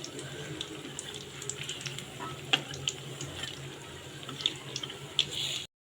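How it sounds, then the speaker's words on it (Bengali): Battered eggplant fritters for phuluri deep-frying in hot oil, a soft continuous sizzle with scattered small pops and crackles, fairly faint and close, ending abruptly. "এই তো ফুল বেগুনিগুলো কিন্তু ভাজতে দিয়ে দিছি"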